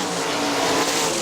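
Sprint cars race on a dirt oval at a Great Lakes Outlaw Super Sprints event, their engines forming a loud, steady, continuous roar with no break across the clip.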